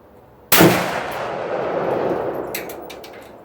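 A single loud .308 soft point rifle shot strikes a pizza pan target at close range, a sharp blast that rings and decays into a long rumbling tail, followed by a few faint clicks.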